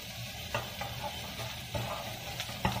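Curry leaves and peas fry in a pan for upma, a soft, low sizzle under occasional stirring scrapes and light spoon knocks, fairly quiet and without speech.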